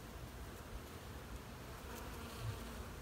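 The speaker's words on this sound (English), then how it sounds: "The bees are working the Brazilian pepper right now." Honeybees work blooming Brazilian pepper flowers outdoors, a steady, soft, continuous hum of many insects buzzing together with no voices.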